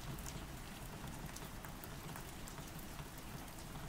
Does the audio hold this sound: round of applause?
no